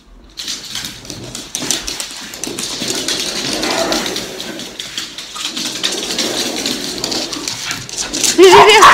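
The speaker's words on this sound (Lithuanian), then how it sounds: "Šuo, puola." A dog gives agitated barks and whimpers close by over a continuous rain-like rustle, and people talk throughout.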